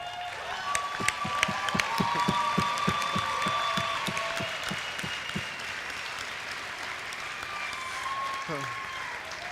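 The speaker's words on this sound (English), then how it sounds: "you hear the clapping from the back of the room" Sustained applause from a crowd at a business school convocation ceremony, dense rapid clapping that swells then settles, heard from some distance in a large room.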